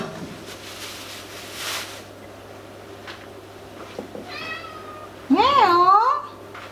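A cat meows loudly up close in a home kitchen while lasagna is being made. Fainter clatter and background sounds come first, then one long, wavering meow rings out clearly.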